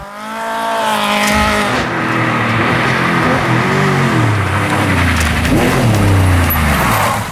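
Race cars climbing the Saint-Césaire hill climb course, engines roaring loud and close, revving and rising in pitch as they pass, with no talk.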